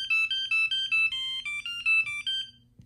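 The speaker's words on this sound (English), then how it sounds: "let's see how to change the buzzer noise" Toy robot buggy buzzer sounding its second preset: a bright electronic melody of short, stepped high beeps in a quick ringtone-like sequence, close and clear, ending with a small click.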